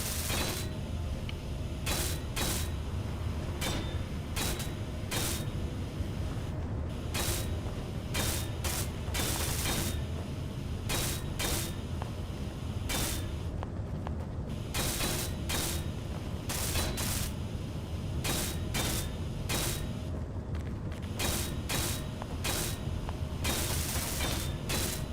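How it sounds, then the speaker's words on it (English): A welding tool in Space Engineers works on blocks in a mech build, giving a harsh, steady mechanical buzz broken by rapid repeated clicking bursts that run for the whole stretch, with no talking. "Let's weld them up then."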